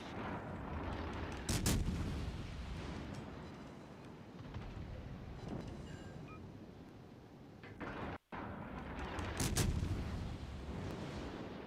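Heavy booming fire from a pod in a video game, a steady rumbling barrage with a few sharper loud blasts near the start and end.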